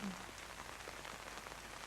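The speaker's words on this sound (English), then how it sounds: "It is really pelting down now. Really heavy rain." Heavy rain pelts down steadily at an outdoor pony club equestrian event, a dense, even hiss of drops on surfaces filling the whole moment, with no voices.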